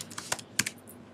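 A few quick keystrokes on a computer keyboard, typing a search term into a spreadsheet's Find box, close and fairly quiet, in short irregular bursts with no talking.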